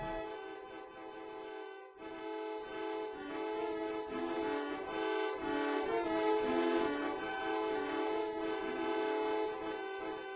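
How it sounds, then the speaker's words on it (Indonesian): Car horns in the video game Deltarune Chapter 2 blare musical tones repeatedly in a rhythmic, melodic pattern resembling the Undyne theme, sounding synthesized and game-like, loud and continuous without speech. "kita bisa mendengar suara klakson dari mobil-mobil ini"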